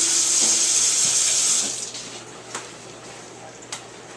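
Water from a kitchen tap runs steadily into a sink as Italian dressing is rinsed off hands, a loud continuous splash that thins out midway, followed by a few faint clicks.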